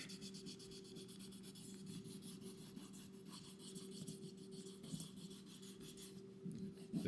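Green stropping compound is scraped onto a leather strop, rough side up, in a steady close rubbing texture over a constant low hum, with no talking.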